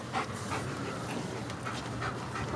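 A dog pants quickly and steadily at close range, quiet and rhythmic, with soft breathy huffs running throughout and no talking over it.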